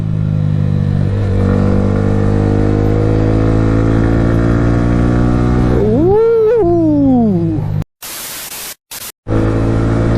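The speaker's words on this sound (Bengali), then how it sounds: "এইরকম রোডের জন্য তো এই বাইক" A motorcycle winds along a zigzag hill road, its engine droning steadily and then revving up and down in a rising-falling sweep, followed by bursts of rough wind buffeting.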